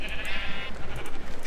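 A blocky sheep in Minecraft, on a barn sheep farm where the animals are being sheared, gives a short, clear wavering bleat, followed by softer game noise.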